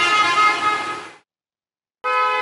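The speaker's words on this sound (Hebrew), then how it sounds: "מצפצף, צפצף" A car horn blares on a road trip through Ha Giang, Vietnam: a long loud honk of about a second that fades, then silence, then a second sharp blast.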